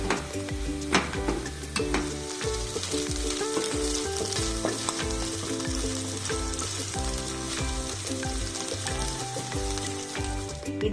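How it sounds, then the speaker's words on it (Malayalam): Fried rice with salted prawns, Malaysian nasi goreng style, sizzles loudly in a pan under continuous stirring, with repeated scraping strokes and a busy, full background throughout. "നല്ലതുപോലെ ഇളക്കി കൊടുക്കണം കേട്ടോ."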